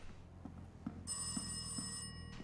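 An old telephone rings in the indie horror game Rise of Insanity, a bright bell trill sounding for about a second over a low dark ambient drone, fairly faint and alone.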